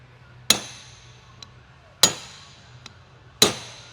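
Three sharp metallic hammer strikes ring out on an old Harley-Davidson transmission housing at uneven intervals, close and loud, each leaving a short ringing decay, with faint small taps between them.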